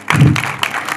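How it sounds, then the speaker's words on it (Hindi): Audience applause swells briefly, a short burst of clapping. "इनके लिए तालियां बजा दो"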